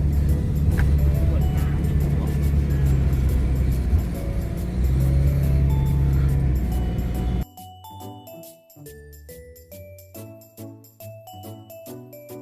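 An automatic car climbs a road toward a hilltop temple. For about seven seconds its engine and tyres make a steady low rumble, and then chiming music takes over for the rest.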